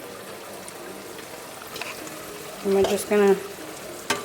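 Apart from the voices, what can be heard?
stirring cheese into the pan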